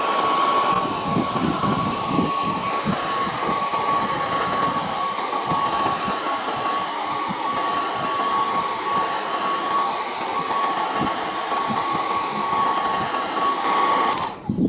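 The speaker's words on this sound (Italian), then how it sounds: "passiamo un po' di phon in modo che così il biadesivo si va a incollare ancora meglio" A hair dryer blows in a steady, continuous whir with a constant high tone, close by and unbroken until it cuts off at the very end, warming double-sided adhesive on chrome bumper trim of a Nissan Qashqai J11.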